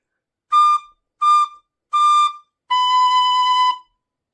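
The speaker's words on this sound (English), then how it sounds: "we're going to start with a high D, and we're going to blow ever so slightly harder on the tin whistle" A tin whistle plays a high D as three short notes and then one longer held note, each clear, bright and pure, played up close and alone with silence between the notes.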